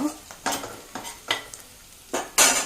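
Whole cinnamon, cardamom and cloves get stirred in a hot pan with oil, a series of scraping strokes with soft sizzling, ending in a louder burst of frying.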